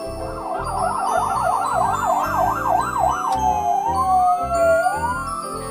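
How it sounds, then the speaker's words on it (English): An ambulance siren wails in fast rising and falling cycles, then shifts to a slower, longer sweep, loud and close over a low rumble of road traffic. "Ambulance."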